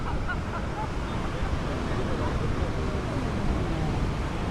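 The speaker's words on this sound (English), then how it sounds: "Yo, the waves them crazy, yo." Continuous broad roar of ocean waves breaking on a Honolulu, Hawaii beach, with wind buffeting the microphone and faint voices mixed in.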